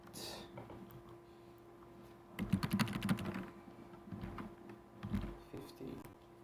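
Computer keyboard keys are tapped in quick bursts, first a dense rattling run, then a few scattered clicks, close and fairly quiet over a faint steady hum.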